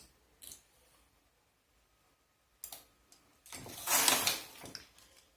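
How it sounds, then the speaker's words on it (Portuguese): A knitting machine carriage slides over the needles, producing short mechanical rattling clicks followed by a louder, longer rushing sweep near the end, close by and without talk. "Duas voltas e agora levanto 4 agulhas."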